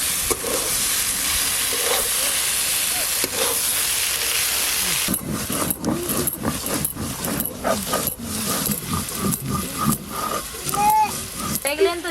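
Neem flowers fry in oil in a pan, giving a steady sizzling hiss. Partway through, the sound turns to bursts of stirring and scraping, and a voice talks over it.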